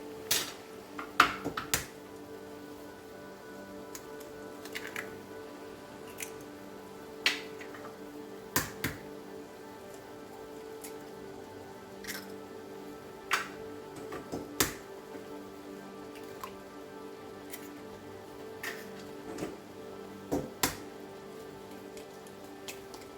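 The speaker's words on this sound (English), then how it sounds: "we're gonna crack them right in there" Eggs cracked one after another into a pan of simmering garden-fresh tomatoes for shakshuka, giving a series of short sharp cracks and taps against steady low sizzling, spaced irregularly and fairly close.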